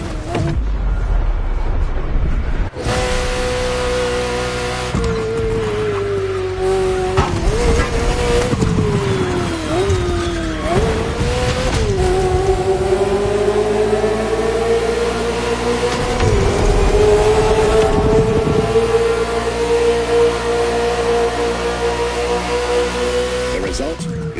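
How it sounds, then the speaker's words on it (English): A Ferrari F40 races in The Crew Motorfest, its engine a loud, close, continuous roar that climbs and drops through repeated rev sweeps and gear shifts, with a voice at times. "This Ferrari, bearing the apropos designation F40, was the last Ferrari automobile personally approved by Enzo Ferrari"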